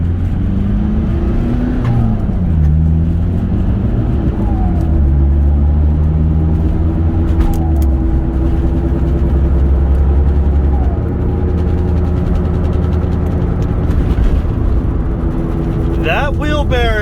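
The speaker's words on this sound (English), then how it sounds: "That wheel bearing sounds so bad right now." A car driven at night with a badly worn wheel bearing gives off a steady loud low drone and road rumble that rises and falls with speed, continuous throughout, with a faint rattle near the end.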